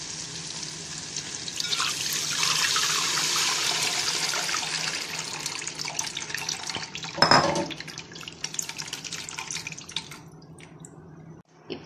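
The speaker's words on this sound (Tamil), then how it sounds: "இப்போ வந்து புளிய வடிகட்டி சேர்த்துக்கலாம்." Strained tamarind water pours and splashes steadily into a pan for fish curry, with a brief clatter midway before the flow trails off.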